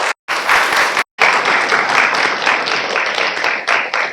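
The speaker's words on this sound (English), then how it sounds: "let's give Dr. Whitehead one more round of applause for that wonderful speech" A symposium audience applauds Dr. Patrick Whitehead after his undergraduate research talk, loud dense clapping that starts after two brief dropouts and then carries on steadily, easing slightly toward the end.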